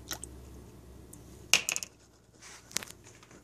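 Green and orange antifreeze coolant poured into a container to make a 50-50 mix: a short wet splash and gurgle midway, then a softer later trickle, faint and close, with no talking.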